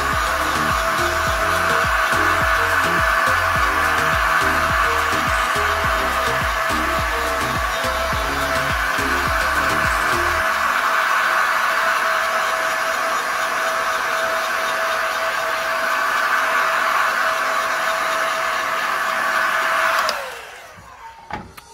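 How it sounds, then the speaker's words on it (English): Heat gun blowing steadily and loud to dry paint layers on a car gear knob cover for a Volvo P1 model, a continuous airy roar with a low motor hum that fades partway, then the gun cuts off near the end. "with the help of a heat gun, we can dry the layers"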